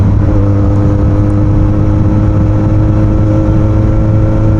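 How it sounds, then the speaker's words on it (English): A Yamaha YZF R1 sport motorcycle engine running close and loud, a steady low droning hum with no change in pitch, continuous throughout. "I am now driving a super sports. This is the legendary Yamaha YZF R1."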